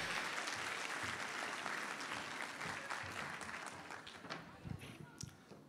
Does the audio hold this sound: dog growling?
no